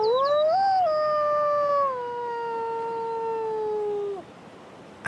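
A wolf howls alone in one long, clear, steady call that starts high, eases gradually lower and breaks off after about four seconds, answering a person's howl close by in the wild.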